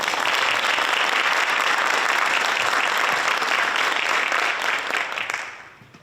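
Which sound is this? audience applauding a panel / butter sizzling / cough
audience applauding a panel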